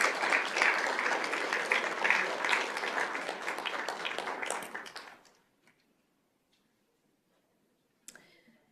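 Applause at a school governing board meeting, full and steady for about five seconds before fading out into near silence, with a brief faint sound near the end.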